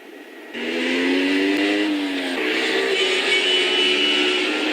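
A 1965 NSU Sport Spider on a test run roars up as the engine cuts in loud and close, revving through a steady climbing drone, easing briefly, then pulling strongly again.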